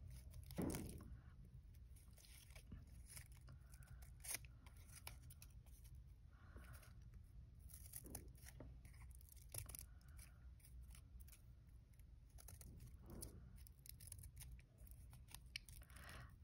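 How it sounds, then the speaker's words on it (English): Scissors cutting through folded paper for a paper snowflake, quiet close snips and rustles repeating irregularly throughout, no talking. "once I am done cutting, I make sure that I cut all the lines I wanted to"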